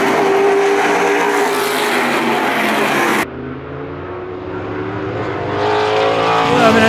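Formula 5000 race cars roar past close by on a New Zealand circuit with high, screaming engines, one after another, the pitch dropping as each passes, then another approaching.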